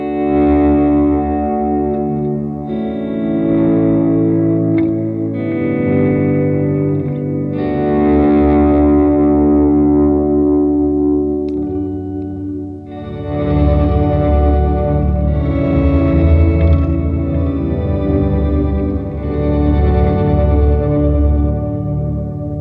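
Electric guitar with the Earthquaker Devices Organizer pedal switched off, playing sustained chords and melodic phrases with some distortion and reverb from other effects, loud and close with no voice.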